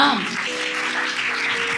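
A church congregation breaks into clapping, a quick wash of many hands that is loud and close and mixed with a voice at the very start.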